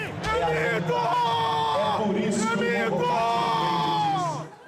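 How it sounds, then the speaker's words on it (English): A large crowd dressed in Brazilian flag colors cheers for President Jair Bolsonaro, with loud whoops, yells and overlapping voices sustained throughout before fading at the end. "Inside, crowds wearing the colors of the Brazilian flag cheer for President Jair Bolsonaro"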